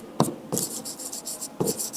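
Chalk or marker writing tan theta on a classroom board during a physics lesson, a few short scratchy strokes and taps in quick succession, close and fairly clear.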